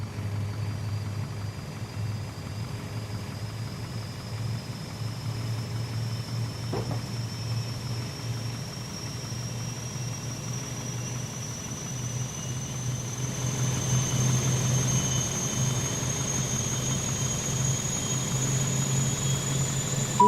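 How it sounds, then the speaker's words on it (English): Auxiliary power unit of an Airbus A320 spooling up in Microsoft Flight Simulator 2020: a steady low engine hum with a thin whine slowly rising in pitch, growing gradually louder and fuller over about twenty seconds. "there goes the APU kicking in"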